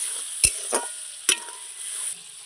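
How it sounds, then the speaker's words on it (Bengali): Masala frying in a wok with a splash of water, giving a soft steady sizzle broken by three sharp metallic spatula knocks and scrapes against the pan, close and fairly quiet. "সামান্য একটু জল দিয়ে দিলাম যেন মশলাটা নিচে লেগে না যায় কড়াইয়ে"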